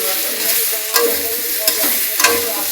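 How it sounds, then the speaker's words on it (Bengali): Malabar spinach frying in a pan, stirred with a spatula: a continuous close sizzle broken by three or four sharp scraping strokes, with no voices. "পুঁই শাকটা নাড়তে নাড়তে জল বেরিয়েছে"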